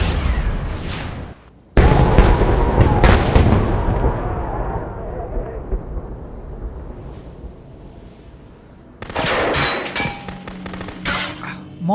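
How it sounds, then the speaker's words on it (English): Heat-seeking Stinger missiles firing in RoboCop: Rogue City, loud booming launches and blasts with rumbling decay, then a fresh burst of sharp impacts near the end. "Computer, activate heat-seeking Stinger missiles."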